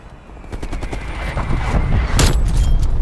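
An artillery strike in Call of Duty: Black Ops Cold War hits an objective amid dense game gunfire, with rapid overlapping bursts building into loud blasts and heavy booms, steady and intense throughout.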